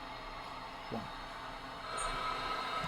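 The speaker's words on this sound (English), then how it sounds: "I went ahead and bought a PAP Alco, and I made this sumbitch a 10-car train" A 10-car train pulled by a PAP Alco locomotive in Transport Fever 2 rolls along steadily, a continuous rumbling run with a brief squeal near the start and the noise swelling slightly louder toward the end, no voices.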